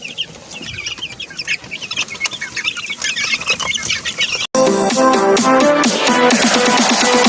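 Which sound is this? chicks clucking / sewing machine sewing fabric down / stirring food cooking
chicks clucking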